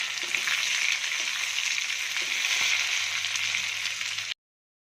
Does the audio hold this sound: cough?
no